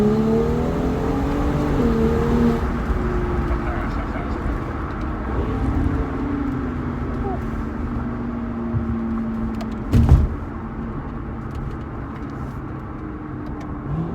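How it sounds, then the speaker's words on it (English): An MHD-tuned BMW N55 engine car accelerates through a pull, its engine tone rising steadily under cabin noise, with a short thump near the end. "let's do a quick pull in the car."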